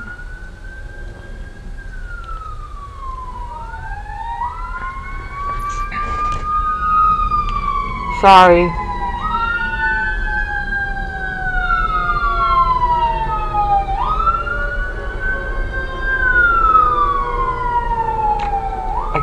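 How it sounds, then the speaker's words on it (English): A wailing police siren sweeps up and down continuously for many seconds, moderately close, near a police station, with several overlapping tones and traffic rumble beneath; a voice briefly speaks. "Oh boy, here's the siren again."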